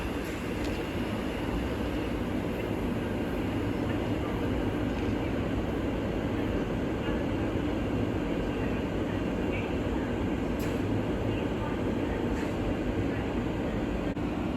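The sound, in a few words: Southern passenger train arriving at station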